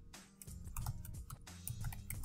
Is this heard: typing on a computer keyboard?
yes